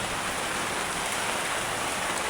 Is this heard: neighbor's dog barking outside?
no